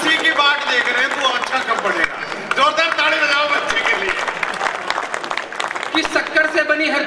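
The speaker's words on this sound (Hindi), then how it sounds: "जोरदार ताली बजाओ बच्चे के लिए" An audience applauds a child reciting poetry, with dense, sustained clapping mixed with voices talking and calling over it.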